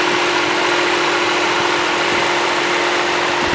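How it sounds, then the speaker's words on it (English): A 2009 Volkswagen CC's 200-horsepower 2-liter four-cylinder engine idles with the hood open, a steady, even hum with a constant whine and faint vibration, close and unbroken, no talk. "here is the 200 horsepower, 2-liter, 4-cylinder CC engine."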